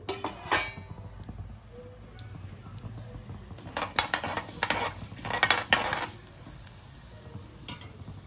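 Tempering of mustard seeds, urad dal, chana dal and cumin sizzling in about 100 grams of hot oil, with crackling pops and bursts of stirring scrapes against the pan, moderately close and without talk.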